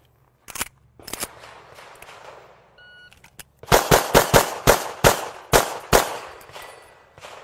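Pistol shots ring out against steel Bunny Staks targets on a shooting range, a few isolated shots at first and then a fast string of about eight sharp cracks, loud and close.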